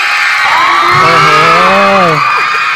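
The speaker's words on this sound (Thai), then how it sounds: "ขอเสียงปรบมือดังๆให้น้องแพททีสามด้วยครับ" A concert audience cheers and whoops loudly for a young performer, a dense crowd roar with rising shouted voices running throughout.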